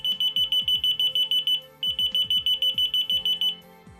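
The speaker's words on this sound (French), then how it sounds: "Ça fait un petit signal d'alarme." A key finder tag gives off a high, shrill electronic alarm of rapid, evenly spaced beeps in two bursts with a short gap between them, close and loud, over faint low knocks.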